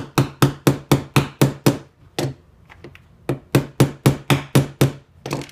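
Sharp hammer taps drive a 2mm hollow Tamiya Mini 4WD propeller shaft into a metal pipe, a quick run of about seven evenly spaced blows, a short pause with faint knocks, then another steady series of strikes.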